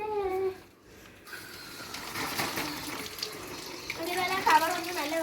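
A kitchen water tap runs in a steady broadband rush after a short quiet gap, continuing for several seconds, with a voice speaking briefly over it near the end.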